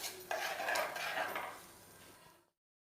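A spoon scrapes and stirs through thick papaya and jaggery payasam in a pan, soft clinks and swishes close by, fading out at the end.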